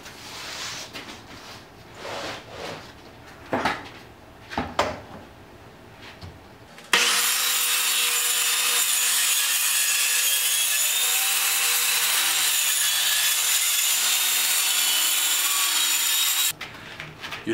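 A power saw cuts a sheet of plywood along a clamped guide, first with a few scattered knocks and handling sounds, then a steady, loud, high whine of the blade biting through the wood for about ten seconds before it stops.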